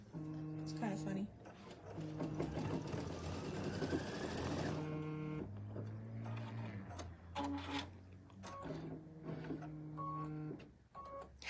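An embroidery machine stitching a bunny garland hums and whirs with pitched mechanical tones in bursts and pauses, while a person talks over it.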